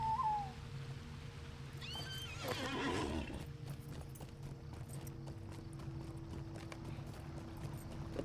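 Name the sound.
horse hooves clip-clop in video game LOTRO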